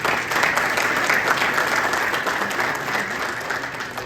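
Steady applause from an audience at an Ethiopian awards ceremony, honouring the people who built the centre, dense clapping that holds at an even level and eases slightly toward the end.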